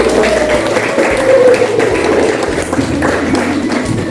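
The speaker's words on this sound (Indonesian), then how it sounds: "Sekali lagi beri aplaus untuk kelompok 1" Applause from a classroom audience for group 1's presentation, a steady wash of many hands clapping that holds loud and dense for about four seconds, with no talk over it.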